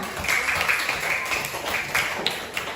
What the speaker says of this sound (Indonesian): tepuk tangan buat Maher dan Faza yang sudah menyelesaikan permasalahannya